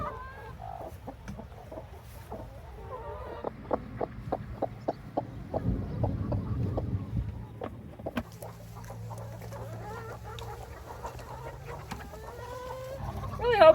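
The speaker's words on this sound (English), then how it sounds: "I got a lot of broody hens right now." Broody hens cluck and murmur close by, a run of short rhythmic clucks in the middle with softer chatter before and after.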